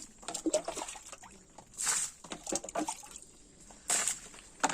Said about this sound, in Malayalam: അത് ഞാൻ കോവലിന് ഒഴിക്കാൻ പോവാണ്